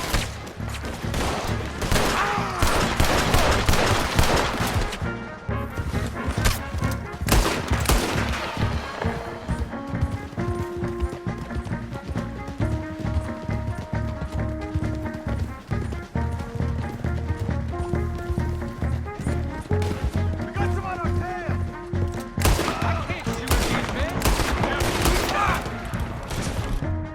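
Gunfire during a shootout in Red Dead Redemption 2, loud repeated rifle and pistol shots in rapid volleys, dense at the start and again near the end, with game music and brief voices mixed in.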